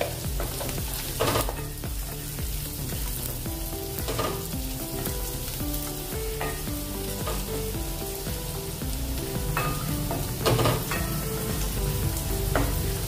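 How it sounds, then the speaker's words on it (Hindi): Vegetables, including sliced carrots, sizzle and fry steadily in a pan while a spoon stirs them, with scraping clatter over continuous close frying noise and no talking. "इसको भी थोड़ा सा हम ऐसे पकाएंगे, चम्मच से हिलाते हुए।"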